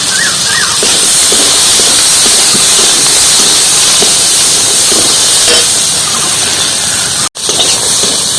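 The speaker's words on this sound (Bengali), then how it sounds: "ডালটা আমি ভালো করে একটু ভেজে নেব" Chana dal frying in a pan, a steady loud hiss and sizzle of the lentils in hot oil, continuous and close throughout with a brief dropout near the end.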